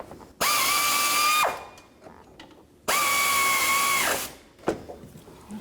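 A power tool with a 12 millimeter socket snugs a bolt while a crankshaft position sensor is replaced on a 2006-2012 Toyota RAV4 2.4L. Two sustained whirring runs of about a second each sit apart, followed by a faint clunk.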